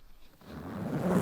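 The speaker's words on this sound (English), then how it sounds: "It was a zip!" A single clothing zipper drawn along its track in a quiet room, a close, dry zipping rasp that starts abruptly and builds in loudness over about a second.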